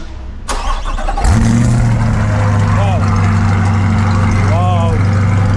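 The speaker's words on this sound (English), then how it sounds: "Now listen to the Corsa exhaust." A Corvette C8 with a Corsa exhaust fires up after a brief rustle and then idles loudly and steadily nearby, with a strong low rumble and a couple of faint high squeaks over it.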